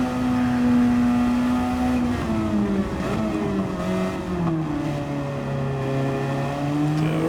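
Race car engine in a racing video game at the St. Croix Circuit, a loud close drone holding pitch, then stepping down through shifts and slowly climbing again, with a faint whir behind and no talk.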